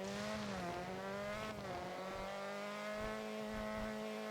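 Inline-four car engine in the racing game Driving Empire, a steady sustained hum with rising and falling revs and a clear harmonic whine throughout, loud and continuous with no talk.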